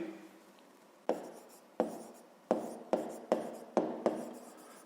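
Math solution being written by hand; a quiet, close series of about seven sharp pen-on-paper scratching strokes at irregular intervals, with no talking.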